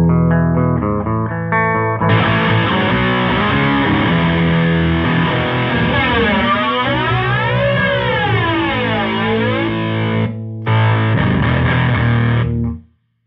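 Electric guitar played through a Fender Deluxe 112 and a Fender Twin Reverb amp combined, a dense distorted and effected tone with sweeping, wavering modulation, a short break, then loud strumming that cuts off abruptly, with no talking.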